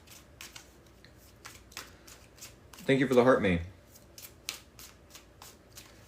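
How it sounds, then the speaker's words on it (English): Tarot cards are shuffled in one quick riffling burst midway, preceded and followed by faint handling clicks, while a person speaks briefly nearby. "We're going to do 3 shuffles in less than a minute."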